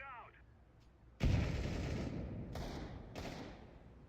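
A grenade goes off in Counter-Strike 2 with a sudden loud blast and a rumbling tail that lingers, after a short high voice-like tone, with further bursts of gunfire-like noise following close behind.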